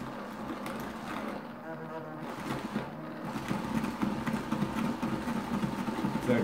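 A drill boring with a half-inch bit, a faint, steady mid-pitched buzzing whir that continues throughout with slight fluctuations in load.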